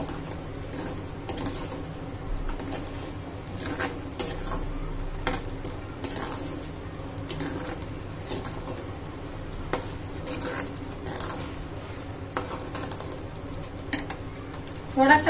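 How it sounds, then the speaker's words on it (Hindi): Paneer biryani gravy stirred in a pot while salt and turmeric powder are worked in, a steady low scraping and stirring with faint kitchen clatter under a constant background hum. "अब हम इसमें स्वाद अनुसार नमक ऐड कर देंगे। थोड़ा सा हल्दी पाउडर, इसे अच्छे से मिक्स करेंगे।"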